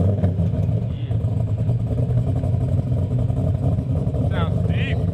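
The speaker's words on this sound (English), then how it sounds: "First start, Kooks exhaust, full long tube headers, full exhaust on the Dodge Demon." A Dodge Demon fitted with a Kooks full exhaust and long tube headers fires up for the first time, settling into a deep, choppy, rumbling idle that is loud and close.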